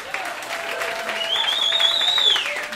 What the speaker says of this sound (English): Please give a round of applause for Derek Gregor.